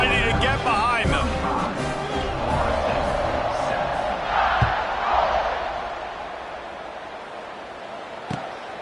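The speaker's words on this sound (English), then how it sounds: "this crowd now ready to get behind them" A large football stadium crowd roars and cheers steadily before a kickoff, a dense wash of voices and whoops that swells and slowly eases, with a commentator talking over it.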